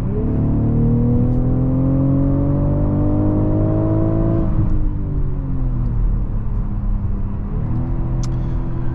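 A 2023 BMW X5 40i with its six-cylinder engine accelerates hard from inside the cabin, a loud steady drone rising in pitch, dipping at a gear change, then climbing again with no talk over it.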